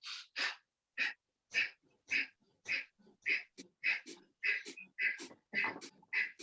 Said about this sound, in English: You do Kapalbhati with breathing